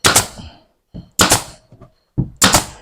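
A nail gun fires three loud, close shots, each a sharp bang with a short tail, into wood while a kitchen island table is built; brief quiet handling sounds come between the shots.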